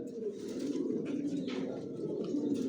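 Racer pigeons in a loft coo in soft, repeated throaty rolls, close and continuous, with a faint murmur of talk in the background.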